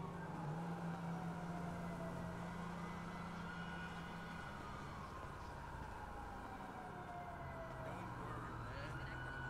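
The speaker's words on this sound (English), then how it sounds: "Oh, I hear police sirens." Video game police sirens wail, rising and falling in pitch over a steady traffic drone, several overlapping tones sweeping slowly, moderately close and sustained.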